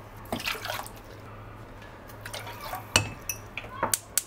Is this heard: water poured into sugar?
yes